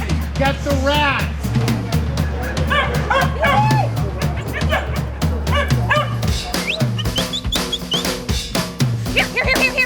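Hunting dogs chasing rats bark, yip and whimper excitedly in rapid bursts, loud and close, while people shout and talk over them outdoors in a city.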